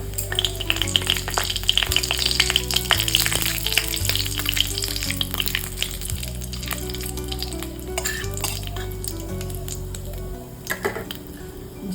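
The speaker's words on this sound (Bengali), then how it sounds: "তেলটা গরম হয়ে গেছে তেলের মধ্যে দেবো গোটা জিরে একটা তেজপাতা" Whole cumin seeds and a bay leaf fry in hot oil, a steady crackling sizzle up close with scattered pops and the occasional scrape of stirring, alongside a low hum in the kitchen.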